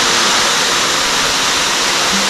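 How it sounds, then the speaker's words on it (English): A 90-foot waterfall in Olympic National Park, a loud, steady roar of falling water filling everything with broadband rushing noise, close and unbroken. "It's a 90-foot waterfall."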